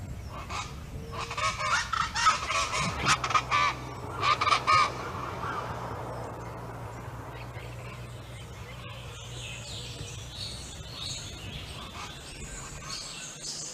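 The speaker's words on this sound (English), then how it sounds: "The coquerico is one of these, and is the national bird of Tobago." A rufous-vented chachalaca, the coquerico of Tobago, gives a burst of loud, raucous, repeated honking calls for several seconds, then falls quiet over a low background hum.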